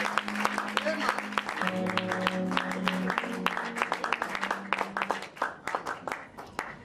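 A church congregation at a French-language service claps together in a dense, rhythmic burst, with sustained keyboard or organ tones and some voices mixed in throughout.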